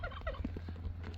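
A turkey gobbles in a quick burst of rapid warbling calls, fairly close, over a steady low background hum with no talk.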